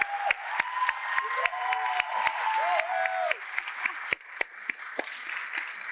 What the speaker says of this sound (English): Big round of applause for Michelle